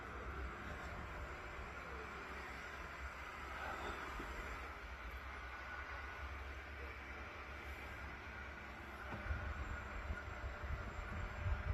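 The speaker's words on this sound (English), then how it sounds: "So we've got two trains coming out, two rail jets coming out at the same time." Steady rumbling train noise with broadband hiss, growing louder toward the end as two Railjet trains leave the station nearby.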